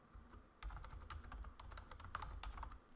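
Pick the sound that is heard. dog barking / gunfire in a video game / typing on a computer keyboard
typing on a computer keyboard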